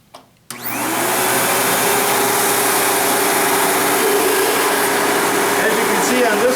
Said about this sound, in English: with this machine, we actually have a smaller motor in it. This vacuum is a 10 amp motor